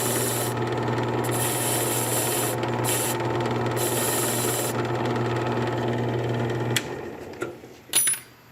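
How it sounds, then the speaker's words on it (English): A freshly cut house key being deburred on a key-cutting machine, with a steady close grinding rub that pauses briefly and then stops, followed by a few clinks and light handling noises. "Come over here and deburr."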